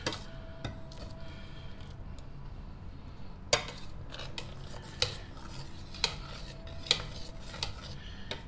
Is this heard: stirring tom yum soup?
yes